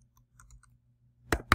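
Two sharp keystroke bursts on a computer keyboard land close together near the end, preceded by a few faint ticks and quiet room hum, with no speech.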